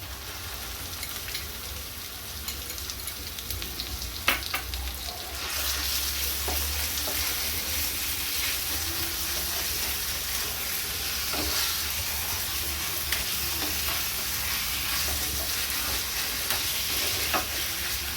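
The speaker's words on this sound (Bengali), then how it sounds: "এখন আমি চিকেন পেস্টটা দিয়ে দিচ্ছি" Chicken paste frying with onions in a pan for chicken Moghlai, a steady close sizzle with bursts of stirring scrapes, loudening after a few seconds when the paste goes in and continuing evenly, with no talk.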